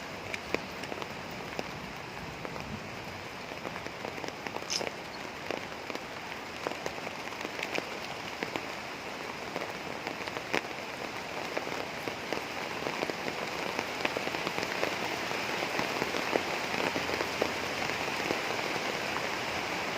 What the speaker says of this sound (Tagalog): Ulan na naman guys.